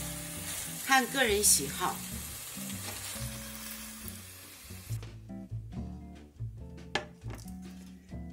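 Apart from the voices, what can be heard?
fish pieces stir-frying in a wok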